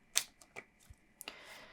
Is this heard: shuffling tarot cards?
yes